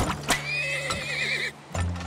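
A horse neighs loudly in the video game Turmoil, a whinny with a strong wavering pitch over a bed of game background sound, the call dropping off briefly before the music resumes.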